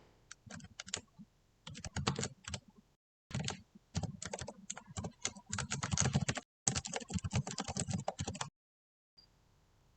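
Computer keyboard typing while writing C# code, with quick close clattering keystroke bursts separated by brief pauses, alone without talk.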